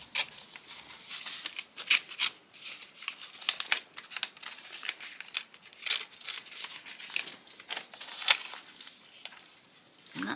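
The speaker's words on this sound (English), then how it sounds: "let's see if I can cut this open here" Scissors snip and crinkle through the packaging of a craft advent calendar, giving a busy run of quick, close cuts and plastic rustles with no talking.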